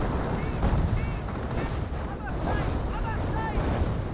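Panzer Grenadiers firing in the strategy game Company of Heroes, a steady crackle of distant small-arms fire mixed with battle noise, with a voice talking over it throughout.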